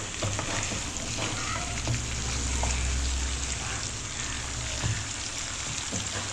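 Marinated chicken Afghani chaap fries in a pan over medium heat, giving a steady, fairly soft sizzle and crackle with occasional stirring noises throughout.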